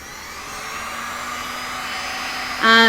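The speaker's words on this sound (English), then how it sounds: "we'll just thin it out with a heat gun and try it from there" A heat gun blows hot air in a steady, even whoosh that holds throughout, ending in a brief louder burst with a tonal edge as it is adjusted or switched.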